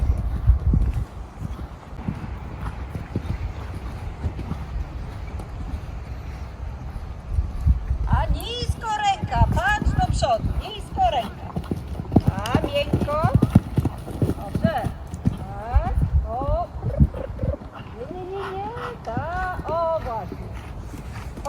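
A horse canters and gallops toward show jumps during a training session, hoofbeats thudding rhythmically and close, while a trainer and other people talk throughout.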